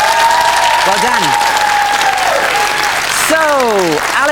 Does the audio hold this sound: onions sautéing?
no